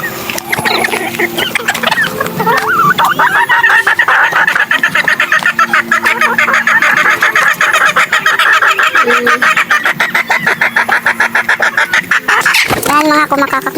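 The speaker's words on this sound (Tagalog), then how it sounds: "Yan mga kumakakak na mga itlog niya." Hens cackle loudly and continuously after laying eggs in a backyard flock of roosters and hens, a dense repeated clucking chorus up close with a sharp thump near the end.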